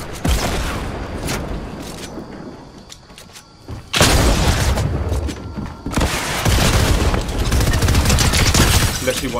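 Rocket launcher blasts in Fortnite, a dense run of heavy booms and gunfire-like bursts, loud and close, with a sharp surge of explosions about four seconds in and another near six seconds.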